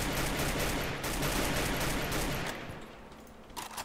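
Dense, sustained automatic gunfire from a Free Fire mobile game match, a loud rattling barrage that carries for over two seconds before thinning into scattered fainter shots.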